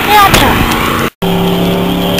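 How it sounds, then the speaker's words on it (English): A mud truck engine roars outside at a mudbog, a loud steady drone with rising harmonic revs, briefly cutting out before resuming a constant throaty hum. "It's a little bit loud because they're out in the mud truck"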